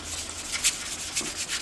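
Used sandpaper is rubbed along the edge of a mezzotint engraving plate, a close, dry scratchy rasp with a couple of brighter strokes standing out.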